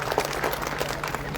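An audience claps to welcome a guest of honour at a Rajmata Jijau birth-anniversary lecture and celebration in Indapur, a steady, dense patter of many hands filling the hall with faint crowd murmur beneath.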